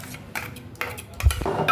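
A utensil mixes egg with soaked dry-roasted semolina, yogurt and coriander in a bowl, with a few soft scrapes and light clinks close by, ending in a slightly louder knock against the bowl.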